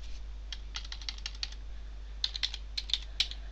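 Computer keyboard typing in a quiet room: a quick burst of light clicking keystrokes, a short pause, then a second run of sharper taps, with steady low hum underneath.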